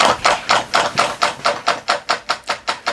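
A small scratch-built solenoid beam engine runs on about 10 volts, giving loud, evenly spaced mechanical clacks, roughly four or five per second, in a steady rhythm close to the listener.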